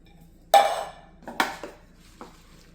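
White beans stirred into a multicooker pot, with a couple of clattering scrapes and knocks of a spoon against the pot, one louder burst then a few softer hits, close and alone.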